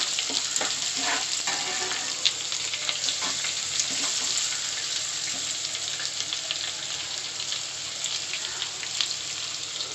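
Two long-sliced onions sizzle and crackle steadily in hot oil for poha upma, a continuous bright hiss with scattered pops and occasional stirring.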